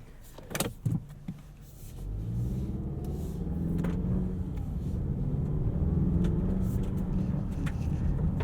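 A 2020 Mazda CX-9 Signature AWD pulling away from interior POV after a couple of sharp clicks, engine rumble rising into a smooth accelerating drone with muffled road noise building steadily.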